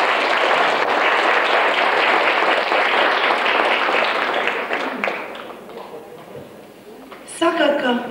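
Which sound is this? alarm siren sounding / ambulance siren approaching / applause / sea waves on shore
applause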